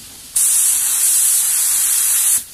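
A spray gun sprays paint for a repaint of a Kawasaki K1 coverset, a loud steady hiss that starts abruptly, holds for about two seconds and cuts off cleanly.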